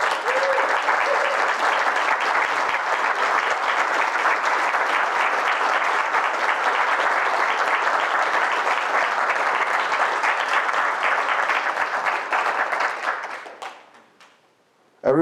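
Sustained applause from a lecture audience honouring fish-raising research and conservation staff, loud and steady for about thirteen seconds before fading out, then a brief voice at the very end.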